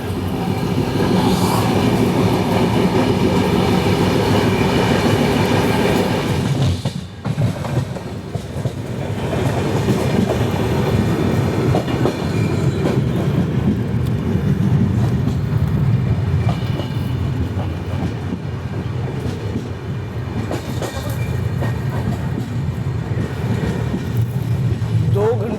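Capital Express passenger train rolling from Kamakhya toward Siliguri, a steady loud rumble with wheel clatter heard from inside the coach, briefly dipping midway, with voices talking faintly underneath.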